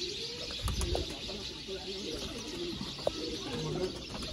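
Pigeons at a breeder's loft coo softly and repeatedly amid a steady background hum, with brief chirps and a faint flutter of wings now and then.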